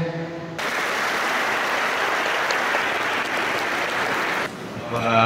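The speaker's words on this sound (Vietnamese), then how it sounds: "những tràng pháo tay rộn rã của cộng đoàn giáo xứ Thiên Ân" Sustained, lively applause from the parish congregation of Thiên Ân at a Catholic church celebration of a priest's 49th ordination anniversary, a dense wash of many hands clapping steadily for about four seconds before cutting off.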